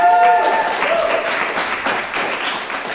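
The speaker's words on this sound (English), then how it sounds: "Everyone give a round of applause once again to Ryan." An audience at a live late-night comedy show in Edmonton gives a round of applause, dense clapping spread steadily across the whole stretch at fairly close range, with a brief tonal sound at the start.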